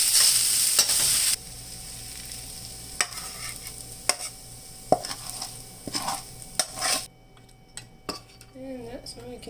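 Kimchi fried rice being stirred and fried in a pan, with a soft steady sizzle under scraping and clinking of a utensil against the pan, plus a few brief knocks.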